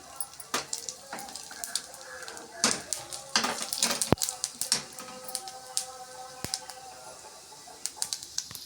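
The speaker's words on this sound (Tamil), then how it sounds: "அதோடு கொஞ்சம் அரை அரை உளுந்தும் சேர்த்துக்கலாம் நல்லா பொரியட்டும்" Cumin seeds and split urad dal fry in hot oil for a snake gourd kootu, giving close, irregular crackling pops and sizzling bursts that rise and fall, with occasional clinks of utensils.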